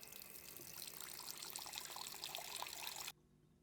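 Water runs steadily from a Chicago commercial faucet with its outlet removed, a dense hiss of flow close at hand that stops abruptly near the end.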